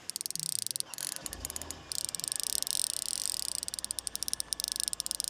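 A Hardy fly fishing reel buzzes with rapid, even ratchet clicks as the line pulls off, a quiet mechanical chatter that stays close and continuous throughout.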